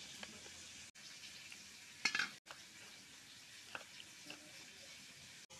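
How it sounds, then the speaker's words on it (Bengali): Potatoes fry in spiced oil with turmeric and salt, giving a soft, continuous sizzle with a few brief scrapes and clinks of stirring in a pan. "এখন আলুগুলা ভাজো"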